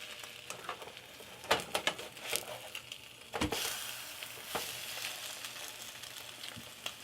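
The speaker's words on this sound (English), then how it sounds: "Depending on how much you want your egg running, how burnt you want your toast, will determine how long you let it fry for." An egg frying in a pan for a breakfast BLT gives a steady, crackling sizzle with scattered sharper pops and spits, close by and fairly quiet, with no talk over it.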